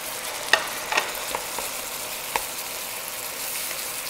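Onions stir-frying in a pan for pan-fried noodles give a soft, steady sizzle with a few sharp clinks of a utensil against the pan and no talking.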